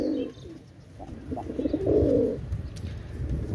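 Pakistani Rampuri pigeons, a running pair, coo close by in a loft. Several soft rolling coos follow one another over a faint background hum.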